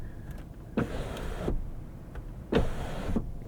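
The touch-controlled sunshade of a 2025.5 Volvo XC90 B6 Ultra slides open and closed inside the cabin. A soft electric motor whir runs in two stretches, each ended by a faint click or thump.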